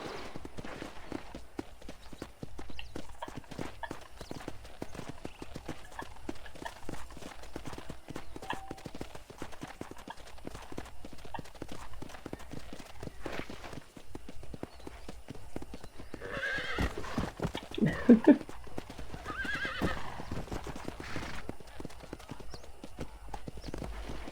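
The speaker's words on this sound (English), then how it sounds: "let's see if you can still ride a horse" Steady clip-clop of horse hooves walking at an even pace in the video game Red Dead Redemption, with a horse neighing partway through, all fairly quiet and a little synthetic-sounding.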